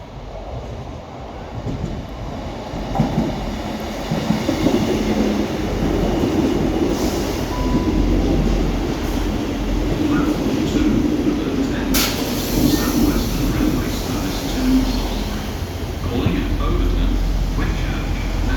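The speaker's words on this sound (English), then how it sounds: "here's our train and I'll see you at Overton" A South Western Railway train runs into a station platform, a steady loud rumble of wheels with a brief squeal and rattling, while people talk nearby.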